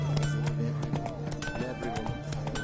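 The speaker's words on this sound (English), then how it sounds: "Run, Roach." A horse in The Witcher video game gallops at a steady clip-clop under a continuous game soundtrack and ambient noise.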